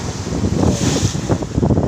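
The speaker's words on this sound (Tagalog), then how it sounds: "ganyan po kalalaki ngayon ang alon dito sa amin" Big waves driven by strong stormy wind on a fishing coast during a typhoon, a loud continuous roar of surf and gusting wind buffeting the microphone.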